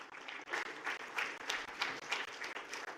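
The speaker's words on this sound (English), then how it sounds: "Join me in welcoming them with a nice big round of applause" Audience in a conference hall at an investors' meet applauding to welcome panel guests, steady clapping from many hands at moderate distance, fairly quiet and without talk.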